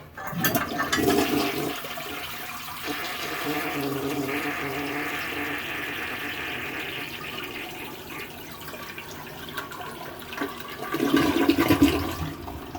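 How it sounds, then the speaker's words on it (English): A household toilet flushes loudly and close up, a sustained rushing swirl of water that tapers into a quieter refill trickle before another surge of water near the end, with no talk over it. "I really don't like this toilet that much, but it has a good flush at least."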